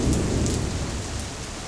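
Heavy rain hisses during a big Wyoming storm while a deep thunder rumble rolls loudly at the start and slowly fades, the downpour continuing on its own.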